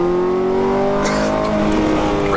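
A Ferrari F430 engine pulls hard at full throttle, a loud, close, rising tonal wail that climbs steadily in pitch without a break.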